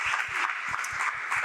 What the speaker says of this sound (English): Let's give him a round of applause, yes.